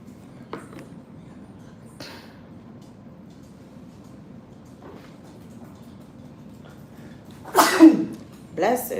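One loud, sharp sneeze near the end breaks over a steady low rumble, and a brief noisy burst follows it.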